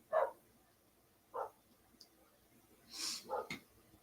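Several playful barks and yips from dogs playing outdoors at uneven intervals, moderately distant, with a quick double bark near the end and quiet gaps between.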